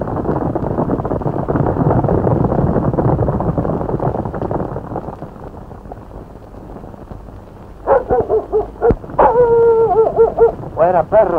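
A dog howls in long, wavering tones and barks near the end, following a stretch of rough rural noise, in a film set around a ranch in Argentina.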